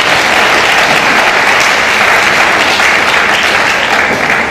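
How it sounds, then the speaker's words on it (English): Loud, dense applause from a large crowd, clapping steadily and evenly the whole time without letting up. "Can you please give our minister a sound and round of applause?"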